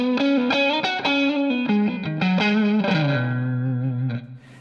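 Electric guitar played through a Klon boost feeding a Keeley Katana into a Dumble-style amp: a sequence of sustained, saturated chords and notes, smooth and warm, ringing out and fading at the end.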